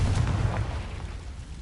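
A Confringo spell in Hogwarts Legacy bursts with a deep, booming explosion at the start, then a low rumbling tail dies away over the next second and a half.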